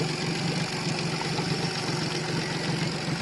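A 14ft CJR PRT13 boat's outboard engine idles on flush muffs, a steady, even rumble that continues without pause and with no voices.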